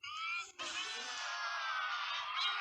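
A creature in an SCP video game lets out a loud, sustained yell lasting a couple of seconds, with a brief break near the start.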